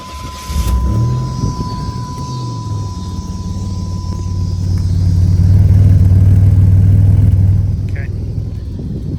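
A 1989 Pontiac Turbo Trans Am starts nearby with a brief cranking burst, then settles into a steady, rumbling idle that swells slightly louder midway before easing back.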